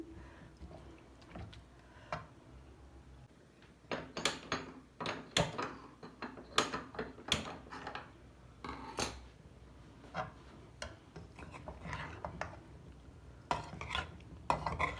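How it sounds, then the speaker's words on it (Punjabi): Spiced cauliflower, carrot and turnip pieces for a sweet-and-sour pickle are stirred in a pan over a low flame, giving a quiet run of irregular scraping and clinking strokes, faint at first and then busier and louder. "ਚੰਗੀ ਤਰ੍ਹਾਂ ਹਿਲਾਣਾ ਹੈ ਜੀ ਇਸ ਨੂੰ ਅਸੀਂ"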